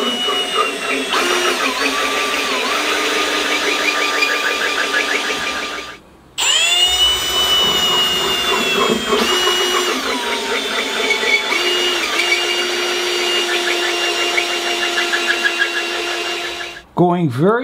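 A power drill grinds steadily into a marble bonsai pot held under water, a loud continuous whining drone with pitch shifts, pausing briefly partway through before resuming, then stopping near the end; a voice talks over it at times.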